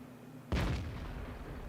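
Tank cannons fire in World of Tanks, 17-pounder guns on a TOG: after a quiet lead-in, one sharp, heavy gun blast cracks out and decays into a long rumbling tail.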